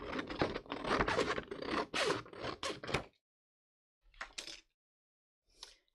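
Paper being cut off a Leuchtturm notebook insert, a close, dense scraping and slicing rasp for about three seconds, then two short isolated scratches after a pause.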